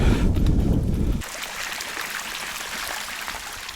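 Strong wind buffets close by on Saaremaa island, Estonia, a loud rumbling gust that abruptly drops to a steadier, hissing rush of air.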